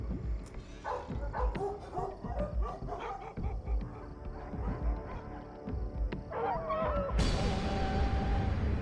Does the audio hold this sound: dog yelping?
yes